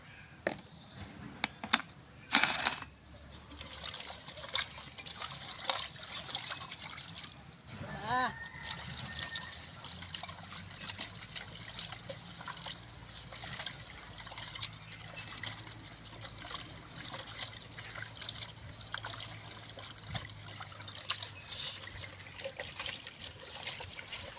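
Water runs from a tap while taki fish are washed, a steady close trickle and splash with a few clattering knocks early on and faint voices in the background.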